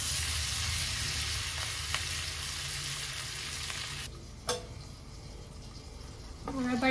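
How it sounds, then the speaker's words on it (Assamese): Capsicum stir-fry sizzles steadily in a covered pan, a loud, continuous hiss of frying that thins out near the end, with a brief clink partway through. "গেছটো মাজতে কমাব মাজতে বঢ়াব তেনেকুৱাকৈ ভাজিখন বনাব পাৰি"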